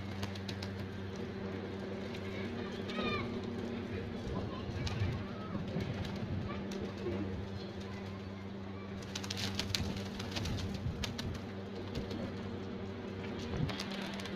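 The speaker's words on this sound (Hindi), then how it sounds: "ये दोस्तों कबूतर को दाना डाल रहे हैं सबको" Pigeons cooing at a pigeon club loft as they are fed grain, soft repeated low coos and fluttering amid steady background hum, with someone talking over parts of it.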